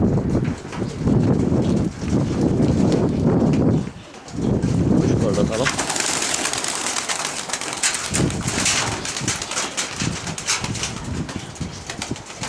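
Tumbler pigeons at an outdoor pigeon loft give low, rhythmic coos and wing rustles, fairly close, with a voice talking over the birds.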